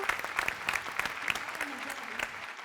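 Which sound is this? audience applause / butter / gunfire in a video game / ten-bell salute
audience applause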